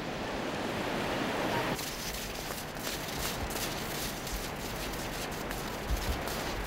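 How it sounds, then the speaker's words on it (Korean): Rough, powerful Atlantic Ocean surf breaking on a West African shore, a steady broad roar of crashing water with no pauses, fairly distant and even, no voices. "대서양의 파도는 워낙 거세서 해수욕엔 적합하지 않다"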